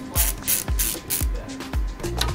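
Small screwdriver turning screws into an Acer Aspire A515-55 laptop's LCD cover and bezel, a series of close, sharp ratcheting clicks in a steady rhythm of about five bursts with light hiss between.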